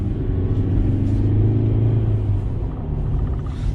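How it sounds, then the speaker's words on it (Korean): A 2021 Mercedes-Benz E220d AMG Line diesel sedan accelerating after a U-turn, its engine a steady close low rumble with a rising drone from inside the cabin, no talk. "약간 엔진의 소리가 좀 크긴 하네요. 확실히. 아무래도 이제 디젤 모델이시다"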